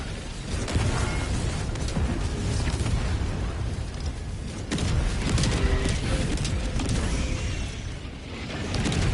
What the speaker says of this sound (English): When all else fails, drop a napalm barrage is what I like to say.